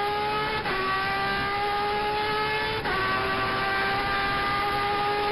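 Turismo Carretera race car on track, heard onboard with José Manuel Urcera driving during Friday practice at Posadas: a loud, steady engine drone with strong harmonic whine, two brief gear-shift dips, no talk.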